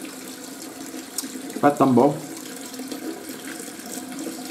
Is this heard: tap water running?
yes